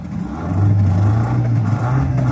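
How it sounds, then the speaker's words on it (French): An 8 horsepower outboard motor, nearly new, running on an aluminium rigid-hull dinghy, with a steady low engine drone that swells slightly and then holds close and loud. "un moteur hors-bord de 8 chevaux quasi neuf"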